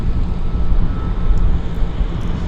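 A Boeing 737 MAX airliner turns onto the active runway at Vancouver airport in wet weather, its engines giving a steady, fairly loud rumbling roar with some wind noise.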